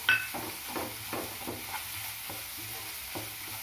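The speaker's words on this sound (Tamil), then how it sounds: "நல்லா இஞ்சி பூண்டோட பச்சை வாசனை போகிற வரைக்கும் நல்லா இது மாதிரி நல்லா வதக்கிக்கலாம்" Ginger garlic paste sautéing in a pan along with softened tomatoes, a steady close sizzle broken by regular scraping strokes of a stirring spoon, with no talking.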